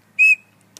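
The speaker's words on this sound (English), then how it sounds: "It's got a whistle." A small whistle built into a compass survival tool gives one short, shrill blast, followed by a faint click in near silence.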